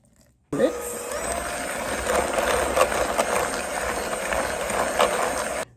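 An electric mixer beats lemon upside-down cake batter with vanilla and lemon extract. It starts abruptly, then keeps up a steady, close, loud whirring with a rattling, clicking texture for about five seconds before cutting off.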